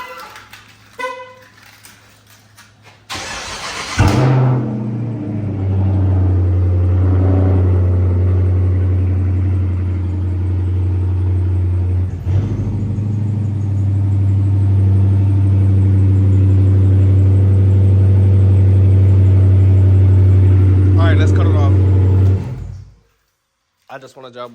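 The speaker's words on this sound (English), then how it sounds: "I just wanted y'all boys to hear the 345 crank up" A Dodge Challenger R/T with a 345 Hemi V8 cranks briefly, fires up with a loud burst, and settles into a deep, steady rumbling idle close by for most of the clip before cutting off.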